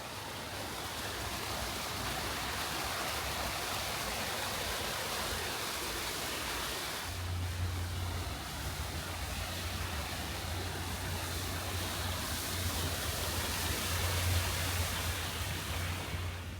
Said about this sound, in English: They have their own beautiful waterfalls.